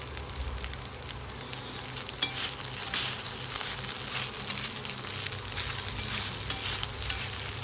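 Poha being tossed with fried peanuts and chopped coriander in a pan, a dense continuous sizzle and crackle with soft scraping of a spoon, steady and close.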